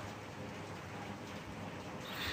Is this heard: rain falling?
yes